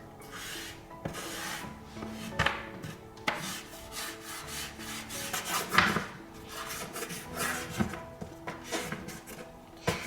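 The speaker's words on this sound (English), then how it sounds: "So I got oil pastel so I can shade." Oil pastel shading on paper for a chick drawing, a series of close, quiet scratchy rubbing strokes in an uneven rhythm, some quick and some longer, with no talk.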